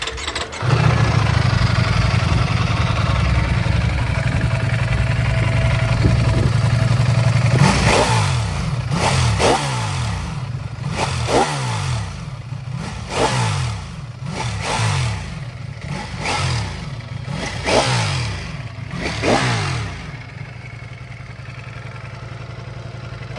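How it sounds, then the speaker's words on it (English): A warm V4 sport motorcycle engine, a Ducati V4S or Aprilia RSV4, idles loud and close with a steady rumble, then is revved in about eight sharp, rising throttle blips before settling back down. "I'm gonna see how you guys like the sound of this motorcycle."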